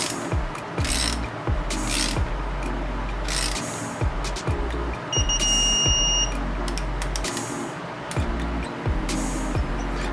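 Rapid clicking bursts from a digital torque wrench ratcheting a bolt tight on an LS engine trunnion kit for a wide-body V8 FD RX7, with a short electronic beep midway and no talk.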